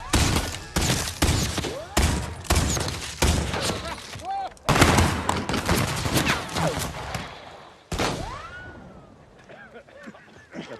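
Gunfire in the online western action game HEAT: rapid, repeated shot bursts with sharp attacks, fairly loud and close, continuing through most of the stretch before easing off near the end.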